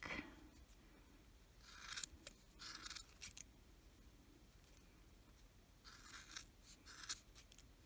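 Small scissors trimming crochet yarn on a mini Christmas Yoda figure, with several quiet, close snips in short clusters and pauses between them.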